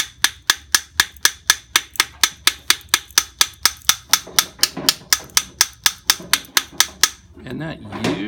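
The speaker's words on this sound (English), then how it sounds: "So what we can do to break it out is just tap on this. Sometimes I'll get a ring mandrel and tap." A jewelry casting struck with a ring mandrel to break it out, about two dozen sharp, evenly spaced metallic taps, close and loud, then looser knocks and rustling with brief talk at the end.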